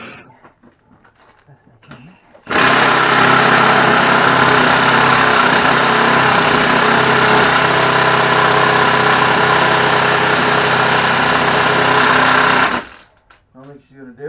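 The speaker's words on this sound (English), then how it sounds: "So he brought home his hammer drill. Or brought over his hammer drill." A hammer drill loosens a stuck 14 mm bolt in one loud, continuous, rattling burst lasting about ten seconds, with quiet talk just before and after.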